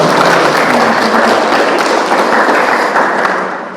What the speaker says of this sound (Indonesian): Boleh dong tepuk tangan untuk kita semuanya.